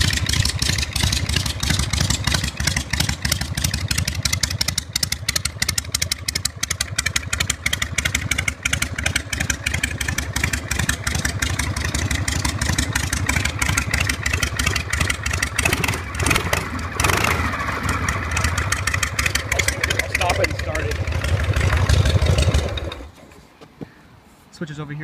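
A 1968 Harley-Davidson motorcycle engine runs loud and close with a steady, throbbing idle for over twenty seconds, then cuts out near the end.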